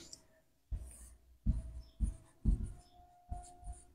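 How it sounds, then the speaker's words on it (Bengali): Handwriting on paper in five distinct strokes, each a short scratchy scrape with a soft thump, spaced by brief pauses and heard close up. "বাংলা অর্থ লিখে দিচ্ছি।"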